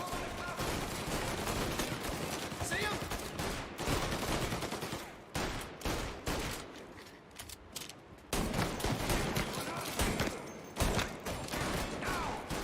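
Pistol gunfire in Mafia Definitive Edition: a rapid string of loud, sharp shots that pauses briefly around the middle and then resumes, with game sounds filling the gaps.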